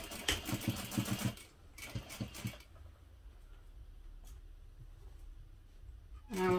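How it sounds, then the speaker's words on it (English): A home sewing machine stitches the bottom seam of a small hip pouch with a long stitch length, two short bursts of rapid rhythmic whirring and clatter, then a quiet stretch before it briefly starts again. "Going to start sewing at the bottom. Using an eighth of an inch seam allowance and my longer stitch length."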